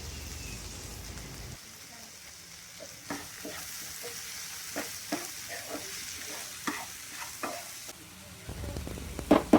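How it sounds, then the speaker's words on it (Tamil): Tomatoes with ginger and garlic sizzle and fry in a pan for squid fry, a steady close crackle broken by intermittent sharp taps and scrapes of stirring that grow louder toward the end. "நல்லா தக்காளி மசிகிற அளவுக்கு நல்லா வதக்கி விட்டுக்கணும்"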